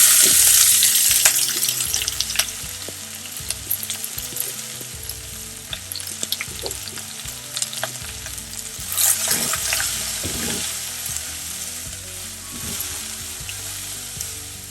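Chopped banana flower sautés with onions and dried red chillies in a hot pan, sizzling loudly at first and then settling into a quieter hiss broken by frequent clinks and scrapes of a stirring spoon, with no voices.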